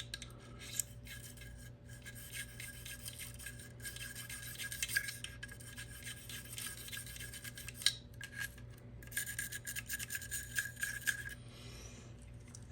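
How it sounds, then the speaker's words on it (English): A brush scrubs inside the slots of an AR-15 upper receiver during cleaning, producing faint, uneven rasping strokes that start and stop over several seconds against a low background hum. "You can just take your brush and just go down the sides"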